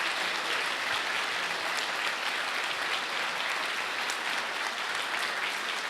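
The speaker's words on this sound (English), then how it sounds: "A huge applause to our speakers who traveled so far." Steady audience applause for speakers closing a developer conference keynote in Athens, a dense even clatter of many hands sustained throughout without a break.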